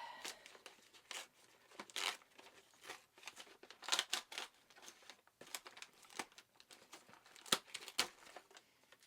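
Cardboard box torn open by hand, a series of quiet, close ripping and crinkling bursts in irregular rhythm, with brief pauses between the tugs.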